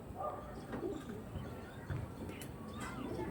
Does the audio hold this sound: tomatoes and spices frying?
no